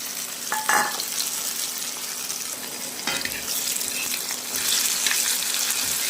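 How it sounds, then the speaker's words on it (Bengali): Onion, ginger paste and green chilies hiss and sizzle steadily in hot oil, a continuous close frying crackle with a few stirring clatters and a sharp burst near the start. "তেল গরম হয়ে গিয়েছে, এবার পেঁয়াজ দিয়ে দিব।"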